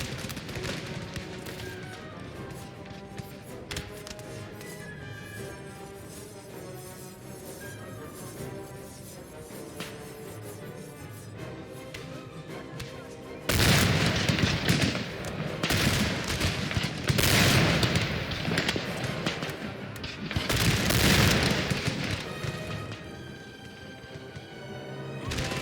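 Cannon fire in Napoleon: Total War (Darthmod), loud broadband booms bursting in after a long stretch of music and battle ambience, heaviest in the second half with a couple of dense volleys.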